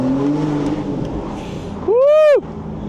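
A Porsche convertible engine idles with a low rumble, then bursts into one sharp rev that climbs and falls back within half a second, loud and close.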